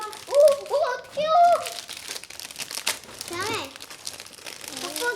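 Plastic packaging of a bug catcher kit crinkles and rustles in bursts as it is unboxed, heard close up beneath children chattering and talking.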